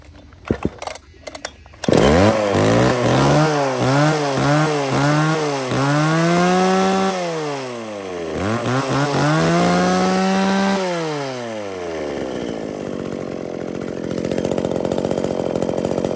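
A small one-handed chainsaw, light enough for trimming branches, starts up and runs loud and close, revving up and down repeatedly in a rising-and-falling whine before settling to a steadier buzz.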